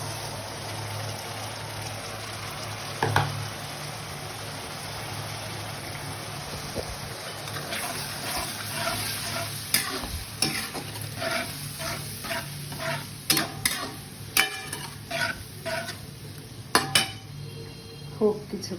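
Ginger garlic paste cooking in oil in a pot for tehari, with a soft sizzle under repeated metal spoon scrapes and clinks that become more frequent in the second half; close, no talk.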